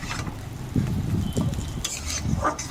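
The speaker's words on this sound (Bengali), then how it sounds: "ভালোভাবে এরকমভাবেই নেড়ে চেড়ে আলু ছানাটা তৈরি করতে হবে।" Fried onion and mashed potato stirred in a pan, with soft scraping and dull knocks of the spoon against the metal in an uneven rhythm over a faint sizzle, close by, no talk.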